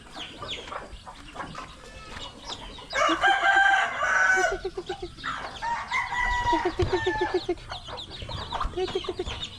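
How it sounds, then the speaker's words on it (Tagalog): Chickens cluck and a rooster crows at close range in a yard, several calls in bursts with softer clucking between them. "Saan na kaya yung isang manok?"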